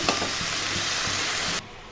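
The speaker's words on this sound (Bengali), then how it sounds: "সবজিগুলো এখন ভাজা ভাজা করবো একটু" Mixed vegetables seasoned with salt and turmeric fry in a pan for a chorchori, making a loud, continuous sizzle that cuts off abruptly near the end.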